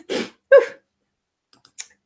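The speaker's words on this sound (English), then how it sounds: "I could feel that sneeze coming" A person sneezes loudly at close range, a quick two-part burst, followed by quiet and a few faint clicks and breaths.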